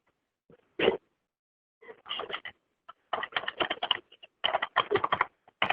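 A driver's full name is typed on a computer keyboard in several quick bursts of crisp, close keystrokes separated by short silences.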